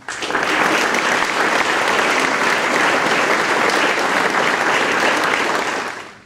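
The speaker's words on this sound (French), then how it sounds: "j'aimerais bien que vous vous joigniez à moi pour leur rendre à tous le vibrant round d'applaudissements qu'ils méritent" A large audience applauds at the launch of a BioPark, a dense, loud and even roar of clapping that holds for about six seconds before tapering off at the end.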